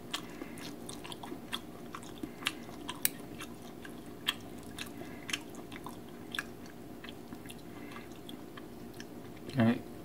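Someone chewing raw fish sashimi close to the microphone, soft wet bites and crunchy clicks at an irregular pace over quiet room noise, with a brief vocal sound near the end.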